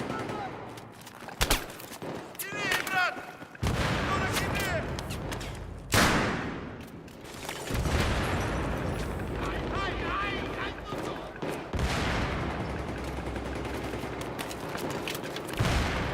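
Gunfire in the video game Battlefield 3, scattered shots and automatic bursts at mid distance mixed with booms and rumbling battle noise, with a player talking intermittently over it.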